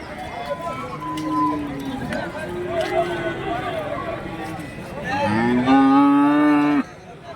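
Jersey calves and cattle at Karimangalam cattle market in Dharmapuri. Background bustle and voices give way to one loud, drawn-out moo near the end that lasts about two seconds.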